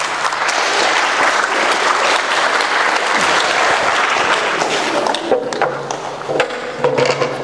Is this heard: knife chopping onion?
no